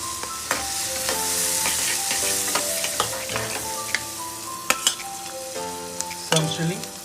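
Onion, chili and capsicum fry in melted butter in a pan, a loud, continuous close-up sizzle broken by repeated sharp clicks and scrapes of stirring.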